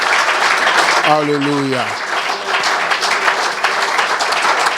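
A church congregation at a Sunday service applauds the Lord, steady broadband clapping and cheering filling the room throughout, with a voice calling out briefly over it.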